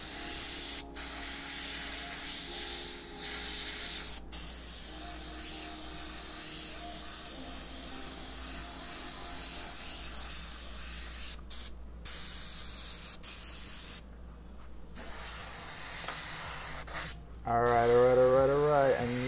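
Airbrush spraying paint on a custom Venom portrait, a long, steady close hiss with a few short breaks and a final burst of rising and falling tones near the end.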